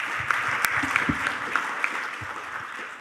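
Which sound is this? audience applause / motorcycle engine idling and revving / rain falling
audience applause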